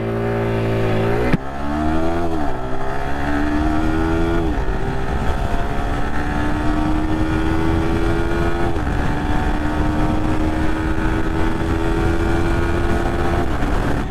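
A Yamaha R15 V4 sport motorcycle engine close up, revving in rising and falling steps and then holding a high, steady whine, loud and alone.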